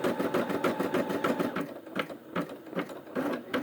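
Brother SE 600 embroidery machine stitching letters, a fast rhythmic mechanical chatter of needle strokes repeating steadily and close, with no talking.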